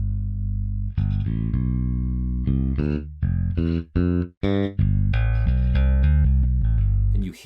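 Electric bass from the HALion Sonic expansion library, played through stomp-box-style effects including a compressor: a run of sustained, gritty notes with distinct plucked attacks and short gaps, loud and close, no voices.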